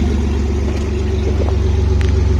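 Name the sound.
BMW 3-litre engine revving while cold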